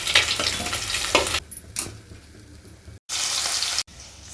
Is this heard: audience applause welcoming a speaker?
no